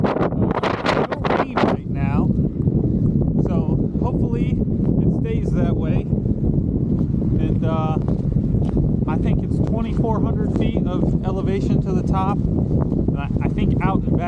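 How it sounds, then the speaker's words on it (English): Wind gusts buffet the microphone outdoors on a hike at a historical site in Ireland, a constant low rumbling rush under a person talking throughout. "So it's quite windy out."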